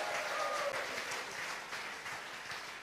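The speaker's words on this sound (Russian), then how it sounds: "воздайте хороший аплодисмент" Audience applause at a live church broadcast gathering in Sochi, a soft, fairly distant wash of many hands clapping that gradually fades over a few seconds.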